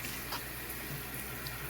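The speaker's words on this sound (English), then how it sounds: "I'm washing them in some soap and water." Water runs steadily from a kitchen tap as vegetables and berries are rinsed, a constant even rush with faint splashes and no voices.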